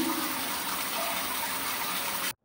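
Steady shower water runs in a dense, continuous hiss while a dog is bathed, close and constant before cutting off abruptly at the end.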